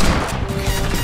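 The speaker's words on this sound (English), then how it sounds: "The amount of gunfire I am hearing right now." A dense burst of rapid gunfire in Fortnite, loud and chaotic, with overlapping shots crackling continuously for about a second.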